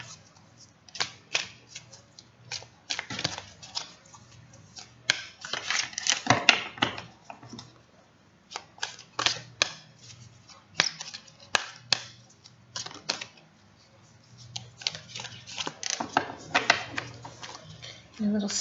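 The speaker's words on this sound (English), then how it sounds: "So I'll shuffle and see what comes out." An oracle card deck of about 52 cards is shuffled by hand, the cards a little sticky, giving repeated crisp riffling and slapping bursts with short pauses between them, close and fairly quiet.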